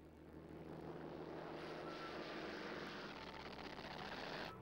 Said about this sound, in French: Des avions japonais attaquent les 2 navires le 10 décembre.